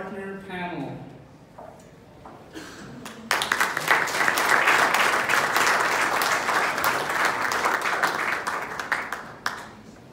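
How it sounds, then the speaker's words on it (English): At a technology conference in Sydney, a presenter speaks briefly before the audience bursts into loud, sustained applause that fills the room for several seconds and then breaks off abruptly. "With big applause, Kris Fagan is going to be joining us for a partner panel."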